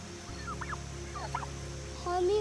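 Wild turkeys in the Blue Ridge Mountains give a few short warbling gobble and honk calls over steady outdoor background noise, moderately near, with no talk.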